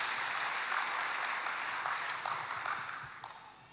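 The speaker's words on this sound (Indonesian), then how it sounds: "Berikan tepuk tangan bagi Tuhan." A church congregation applauds during a sermon, with a brief wash of steady moderate clapping that gradually tapers off.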